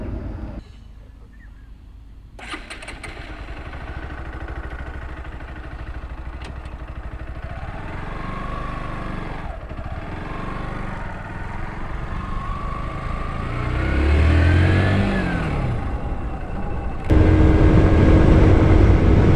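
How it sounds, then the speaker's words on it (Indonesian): A Modenas Pulsar NS160 motorcycle engine putters steadily at low revs, rising briefly in pitch before a louder, closer burst of engine noise near the end. "Enjin motor ni memang kalau tengah running slow-slow macam ni, tengah relax, memang dia smooth, lancar, senyap."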